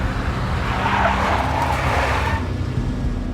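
A big black Mercedes skids in the Max Payne game, its tire squeal rising into a loud, sustained screech over a heavy engine rumble before easing off near the end.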